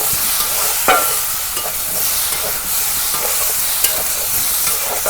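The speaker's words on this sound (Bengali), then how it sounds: "পটল আর আলু ভাজা নিলাম" Pointed gourd and potatoes frying in a pan, a loud continuous sizzle with occasional spatula scrapes and pops as the pieces are stirred, close up and without voices.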